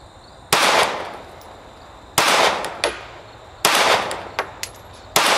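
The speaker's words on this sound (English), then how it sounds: "I'm gonna keep shooting. I'll do another 5 since I got another magazine loaded up." Glock 43 pistol shots fired at a target, four loud sharp cracks spaced about 1.5 seconds apart, each with a short ringing tail and faint metallic clinks of spent casings between, close and alone.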